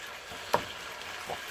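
Chicken pieces sizzle in a hot pan, a soft steady frying hiss with one brief clatter of a utensil near the start and a faint second knock later, close and fairly quiet.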